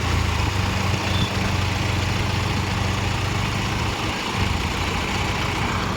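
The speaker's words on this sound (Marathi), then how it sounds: "फायनली आपले ट्रॅक्टर निघालेले बघा" A heavy tractor engine rumbles steadily and loud throughout, a low continuous drone with slight variations as it runs nearby.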